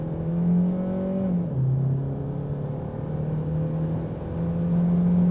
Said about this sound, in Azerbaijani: Motorun səsi aləmi götürür.